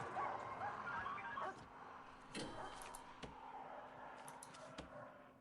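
Dogs in the prison management game Prison Architect: yips and whimpering barks over a busy game soundscape, moderately faint and somewhat distant, with a few sharp clicks.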